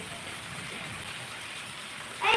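Steady rain falls throughout, a constant soft hiss of drops, with a brief louder splash or clatter near the end.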